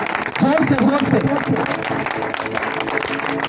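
A church congregation claps loudly in praise during a sermon, a dense, sustained wash of hand claps filling the room, with a voice audible over the first second.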